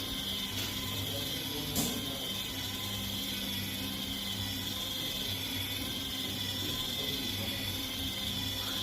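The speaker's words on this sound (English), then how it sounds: "this we have used 45 rpm motor, 10 kg of torque, and this is our Johnson motor" A motorized screw jack driven by a 45 rpm Johnson motor with 10 kg of torque runs with a steady, close mechanical whir and gear drone, with a constant high whine over it.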